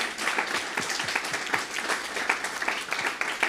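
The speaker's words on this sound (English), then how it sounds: "Please join me in giving Judith a round of applause for her dedication and service that helps so many living in Community Board" An audience at a Brooklyn community board meeting applauds warmly, a continuous patter of many hands clapping at moderate volume without pause.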